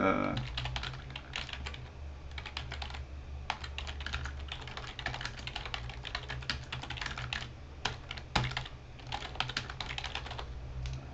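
Someone types on a computer keyboard to rename a bookmark, giving a steady stream of close, soft key clicks in quick irregular bursts over a faint low hum.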